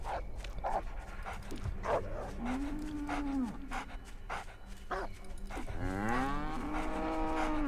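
Cows in the video game Cow Tipping Simulator let out two drawn-out moos, one early and one late, over a busy backdrop of repeated dog barks and game noise.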